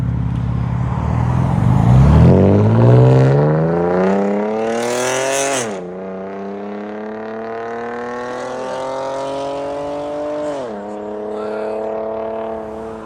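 A loud, raspy V6 exhaust from a 2013 Cadillac ATS 3.6L with straight pipes and an X-pipe revs up with rising pitch, drops, then climbs again in two more pulls, close and droning.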